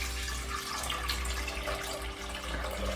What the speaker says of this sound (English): So we're going to pour it into our pan